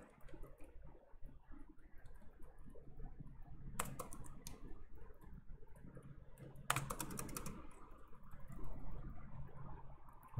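Steady, quiet typing on a computer keyboard while writing code, soft continuous key clicks with a couple of sharper louder key strikes standing out, heard alone in a hushed room.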